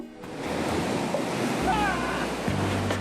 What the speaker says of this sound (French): Nous sommes à Cowell's Beach à Santa Cruz. C'est idéal pour nous, puisque les vagues sont rikiki, comme vous le voyez.